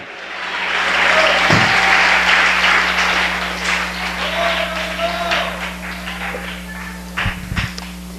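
Church congregation clapping together in praise, a steady broad wash of hands with voices mixed in, plus a low steady hum under it and a few sharper knocks near the end.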